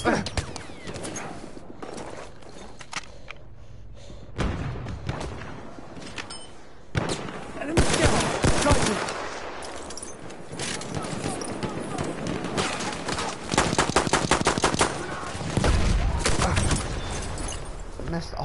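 Handgun fire in the first-person shooter Battlefield 1: sharp, repeated shots and bursts amid other battlefield gunfire, loud and close, with someone talking over parts of it.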